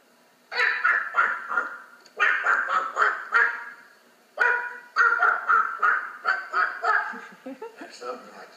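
A human voice imitates ducks quacking, with close, loud quacks coming in rhythmic bursts of several calls separated by short pauses.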